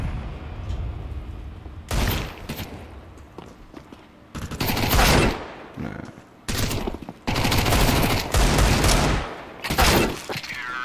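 Gunfire in Counter-Strike 2 comes in several loud, sharp bursts of rapid shots separated by quieter gaps, the last volleys landing in close succession.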